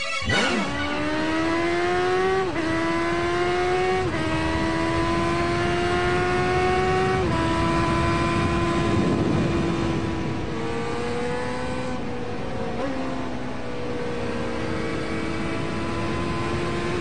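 A 1997 F4 motorcycle engine revs hard while riding, the pitch rising sharply in repeated climbs through the gears, loud and close with constant wind rush and no talk.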